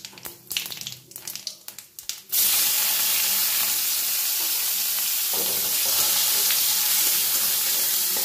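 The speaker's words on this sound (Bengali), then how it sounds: "ফোড়নটা একটু হয়ে গেলে এর মধ্যে আমি পেঁয়াজ কুচিটা প্রথমে একটু ভাজা ভাজা করে নেব।" Chopped onion hitting hot oil with spices in a pan, a sudden loud sizzle that settles into a steady, close frying hiss after a few light clatters.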